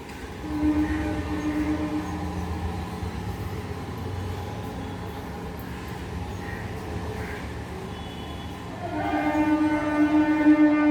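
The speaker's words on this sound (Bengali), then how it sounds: "ওই পারটা তোমরা আওয়াজ পাচ্ছ ট্রেনের" A train runs along a nearby railway line across from the garden of an old house in Sheoraphuli, a steady rumble with a horn-like tone rising near the end, heard from a distance.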